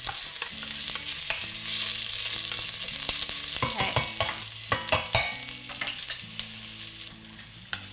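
Ingredients sizzle steadily in a pan on the stove while being stirred, with scraping clicks and clatter rising in the middle, a continuous close frying hiss throughout.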